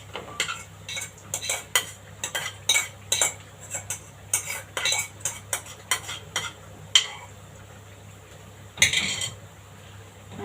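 Minced meat scraped out of a pan onto a plate with a metal utensil: a steady series of close, sharp clinks and scrapes, then a pause and one final clattering burst over a faint background hum.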